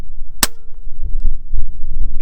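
One sharp, loud crack from a Gamo Urban .22 caliber air rifle, brief and close, followed by faint low rumbling background.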